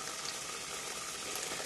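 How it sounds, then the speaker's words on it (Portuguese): Pepper, chocolate and pineapple jam boiling hard in a tall pot, with a dense, steady bubbling sizzle and fast spattering that carries on without pause throughout, close and fairly quiet. "Olha, começa a espirrar muito"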